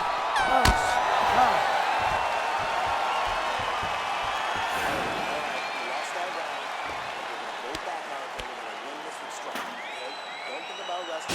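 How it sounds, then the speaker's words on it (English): A UFC arena crowd cheers and applauds after a round in a broad, sustained roar, with sharp slams and thuds cutting through and a commentator talking over it. "So the crowd voicing its appreciation after that round."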